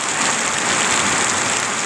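Heavy rain pours steadily at the Khok Nong Na Suan Sin farm garden, a dense, even hiss that stays loud and close for the whole stretch with no voices.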